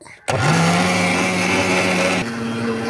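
A kitchen mixer grinder with a new blade whirs steadily while grinding homemade traditional masala, a loud continuous motor drone with a steady whine that drops slightly in pitch near the end.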